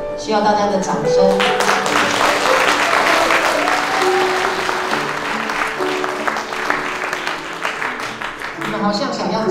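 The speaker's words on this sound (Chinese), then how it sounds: "需要大家的掌声。" Wedding guests at a Fangcalay Day ceremony break into sustained, loud applause that fills the room for several seconds, with tonal voices or music sounding at the start and end.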